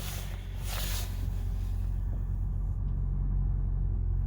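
A 2016 Audi A5 2.0 TFSI Quattro S Line coupe engine fires up from the start-stop button, a brief starter whirr settling into a steady, close low idle rumble that runs on alone.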